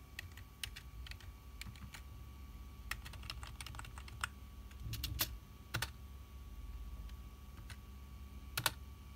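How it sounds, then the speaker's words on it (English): Typing on a computer keyboard while setting up Kubuntu on a Raspberry Pi 4: soft, quiet, irregular key clicks with a few louder taps, over a steady low hum and no talk. "I forgot to type install."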